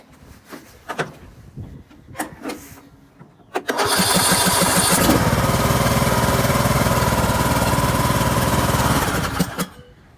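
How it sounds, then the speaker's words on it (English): A John Deere D110 lawn tractor engine cranks briefly with a few uneven turns, then catches and roars into a loud, steady run for several seconds before cutting off near the end. "Cranking over, starting up just fine"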